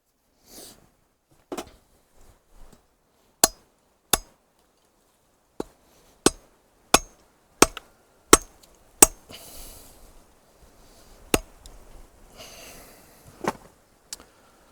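A Viking knife of 65G steel strikes metal in a series of sharp, isolated chopping impacts, about a dozen crisp hits spaced irregularly, with faint rustling between blows.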